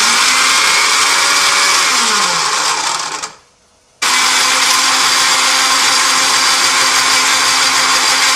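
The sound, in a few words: blender grinding peeled tomatoes for pizza puree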